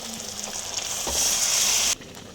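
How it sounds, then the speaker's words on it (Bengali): Boiled peas hit hot mutton fat and spices in a pan, a loud close sizzle that swells for about a second before cutting back to a quieter fry. "এবার আমি মটর সিদ্ধটা দিয়ে দেবো এর মধ্যে।"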